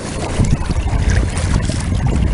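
A Bay Sports 2.3 m kayak with a pod motor runs on its second setting outdoors, a loud continuous rumble blended with wind buffeting the microphone and water rushing past the hull.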